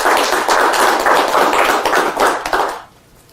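Brisk clapping from a live audience rewards a mind-reading card trick, with loud, even applause for nearly three seconds before a sharp fade to quiet.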